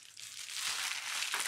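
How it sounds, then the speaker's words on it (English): Gift paper on presents being torn and unwrapped up close, a steady crinkling and rustling that swells and stays fairly loud for over a second, with no talk. "let's open some presents"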